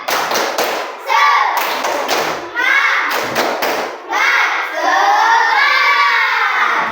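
Classroom children perform a rhythmic clapping chant, sharp group claps landing in patterned bursts with loud shouted chanting between them, close and energetic.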